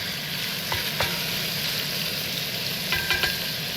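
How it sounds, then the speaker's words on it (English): Food sizzles and crackles steadily in a hot pan on a Cadac Safari gas cooker, with a few light clinks of a utensil stirring. "bring that up to a good old sizzle"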